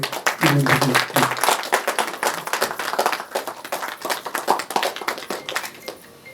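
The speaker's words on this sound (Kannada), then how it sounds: "ತಂಡದಿಂದ ಒಂದು ಚಿಕ್ಕ ಚಪ್ಪಾಳೆ ನಿರ್ಮಾಪಕರಿಗೆ" A film team at a press meet gives the producers a short round of applause: brisk, dense clapping from a small group that tapers off after several seconds, with a voice briefly heard at the start.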